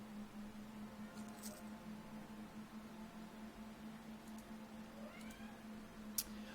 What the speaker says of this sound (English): You hear her meowing?